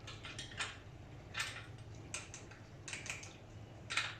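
A chain adjuster on a Sur-Ron dirt bike is turned to tighten the chain, giving faint, close, intermittent metallic clicks in short clusters against a quiet background.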